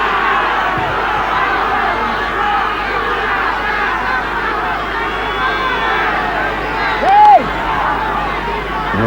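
A large football stadium crowd at a Copa América first-round match between Argentina and the USA in Paysandú, Uruguay, roars and murmurs steadily throughout, a dense, continuous wash of massed voices with a brief whistle-like rise near the end.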